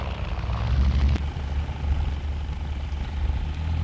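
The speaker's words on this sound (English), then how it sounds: "landing his plane now at the finish of the race." A vintage de Havilland DH-83 Fox Moth biplane lands, its propeller engine droning with a low, rough rumble, steady and moderately close, with a brief sharp knock partway through.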